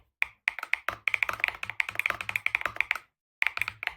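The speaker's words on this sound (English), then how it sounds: "Then I press my keyboard shortcut," Rapid keystrokes clatter on a computer keyboard in a quiet room, a dense run of clicks for about three seconds, a short pause, then a few more taps, close and crisp with no talk.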